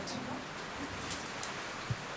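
Steady, broadband rain hiss from a typhoon in the Philippines fills the space evenly, with a few faint taps and no talking.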